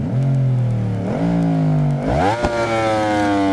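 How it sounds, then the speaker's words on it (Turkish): A motorcycle in the video game Ride 4, a Yamaha MT-09 with dual Akrapovic exhausts, revs up in a series of sharp throttle blips, each rising whine climbing higher, loud and close with no voices. "Gerçekten çift egzoz Akrapovic'imiz var. Şöyle sesini dinletmek istiyorum."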